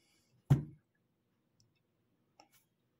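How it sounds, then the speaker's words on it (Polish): A single sharp mechanical click from the relay of a FAAC gate receiver while a remote is programmed, faint and isolated, followed by a couple of tiny ticks in near silence. "Nie wiem, czy słychać, ale cyknął przekaźnik"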